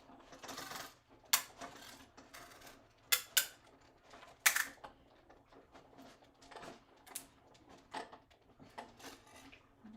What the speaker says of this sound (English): I'm going to run it through over here on my die cutting machine